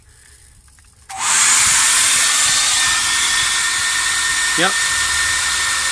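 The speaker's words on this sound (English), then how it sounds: "Got my wife's hair dryer right here. I'll just plug it in out here for now." A hair dryer powered through an RV inverter switches on abruptly and roars loudly and steadily outdoors, with a brief short spoken word partway through.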